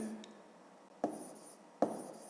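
Pen writing numbers on paper in a fifth-grade maths exercise, a soft continuous scratching with two sharper taps as strokes begin, close and quiet with no talk.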